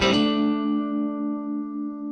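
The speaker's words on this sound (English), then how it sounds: "And we've added some tremolo." Sustained guitar chord through a Headrush Flex Prime amp model with tremolo added, a strong attack that rings out with steady, pulsing harmonics over about two seconds, loud and alone.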